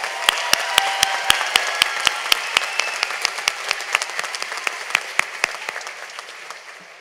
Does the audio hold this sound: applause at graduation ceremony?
yes